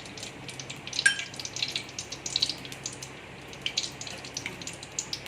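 Mustard seeds crackle and spit in hot oil in a pan, a close, steady sizzle with scattered sharp pops for a tempering step in a tomato-garlic dish.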